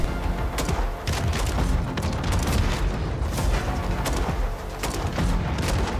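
Explosions and gunfire in Warzone with a grenade launcher in use, a loud, continuous battle din broken by repeated sharp blasts and bursts spread across the whole stretch.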